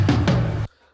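A drum fill sample loaded into Beatmaker 3 on an iPad plays back as two loud, punchy hits in quick succession over a sustained low body, then cuts off abruptly into silence.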